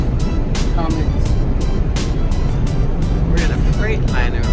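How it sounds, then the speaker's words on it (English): Steady, loud drone inside the cab of a Freightliner Cascadia truck with a Cummins engine, driving on the road, with short rhythmic bursts over the rumble. Faint voices are heard in the cab. "We're in a Freightliner with a Cummins."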